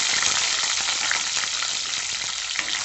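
Garlic cloves frying in hot oil with mustard seeds and dal for fenugreek kulambu, a steady dense sizzle with small crackling pops throughout, close and fairly loud, no voices.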